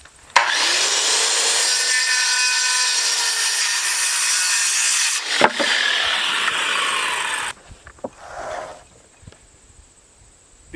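A wooden joist board cut by saw, a steady loud rasping stroke lasting about seven seconds up close, followed by a brief pause and a few lighter scrapes and knocks.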